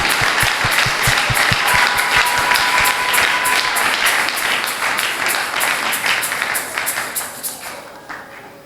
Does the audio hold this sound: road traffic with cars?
no